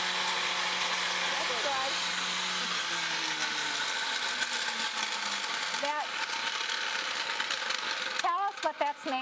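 A combat robot spins up its front weapon of hardened S7 tool steel, a whirring motor whine that rises and falls over a steady mechanical hum, with people talking briefly.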